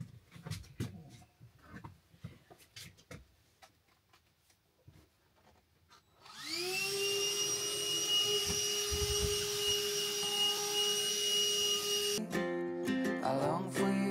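A vacuum cleaner starts up after some quiet handling noises and runs with a loud, steady high whine and drone for several seconds before music cuts in near the end.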